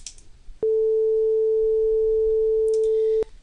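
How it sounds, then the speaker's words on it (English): A pure sine tone sounds alone, holding one steady, unwavering pitch for about two and a half seconds, then cutting off abruptly, with brief faint noises at its start and end. "here we're going to hear a sine wave, we're going to hear a sine tone"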